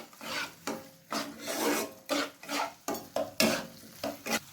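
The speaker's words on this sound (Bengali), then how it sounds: "আবার আমি মশলাটা ভালোভাবে কষিয়ে নেব।" A spatula scrapes and stirs masala with shahi garam masala and a splash of water in a pan for rui fish kofta curry, making roughly nine rhythmic, close, sizzling strokes with short gaps between them.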